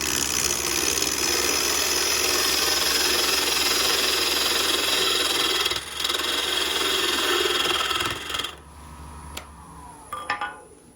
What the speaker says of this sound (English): I'm going to use a smaller parting tool that has an angle on the point